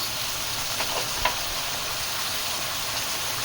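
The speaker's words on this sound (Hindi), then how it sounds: "प्याज के पेस्ट के साथ और जिंजर गार्लिक का पेस्ट है उसको हम इसमें पका रहे हैं स्लो स्लो" Onion paste with ginger garlic paste cooking slowly in a pan, a steady soft frying sizzle with a couple of faint stirring taps, no voices.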